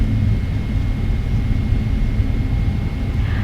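Steady, loud jet engine roar from inside a Boeing 777-300ER cabin during takeoff at Taipei Songshan, a continuous low rumble with a faint high whine, no talk.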